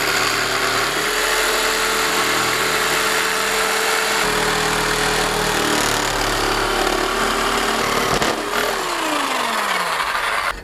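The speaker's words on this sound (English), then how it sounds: "Now time for the jigsaw." Jigsaw cutting metal on a bench while installing a car gearset, a loud, close, continuous harsh buzzing whine with gritty rasping that holds steady, then dips in pitch and winds down near the end.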